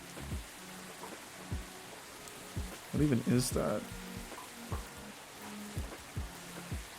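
Rain ambience in the air traffic control game Tower! Simulator 3, a soft steady patter under regular faint clicks, with someone speaking briefly in the middle.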